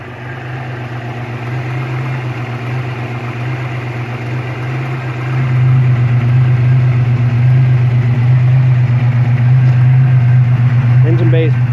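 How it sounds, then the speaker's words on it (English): A car engine idles with its exhaust note audible, a steady, close low rumble that grows noticeably louder about halfway through and holds there. "Runs smooth. Exhaust sounds good."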